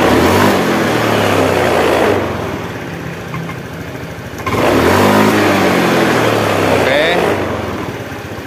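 A Honda Beat scooter with sluggish acceleration revs up twice, each rising engine whine lasting a couple of seconds with a quieter idle between, heard up close as someone talks over it.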